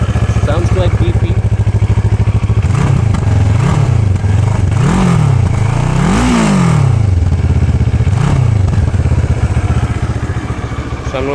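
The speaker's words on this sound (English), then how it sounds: "Sounds quite beefy." A CFMoto 650 NK motorcycle fitted with an AMW aftermarket exhaust revs up close and loud, several sharp throttle blips rising and falling over a steady deep idle, with some talk mixed in.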